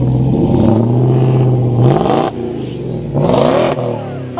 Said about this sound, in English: Could we get a couple revs?